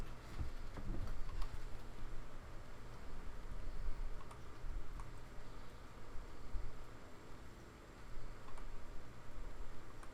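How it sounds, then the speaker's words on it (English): Steady rain falls in World of Warcraft, a continuous even patter and hiss with faint ticking throughout, at constant moderate level with no talking. "It's always raining here, it seems lately."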